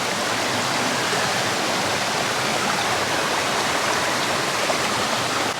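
Creek water flowing steadily along a bush walking track, a continuous broadband rush that stays even and close throughout, with no voices.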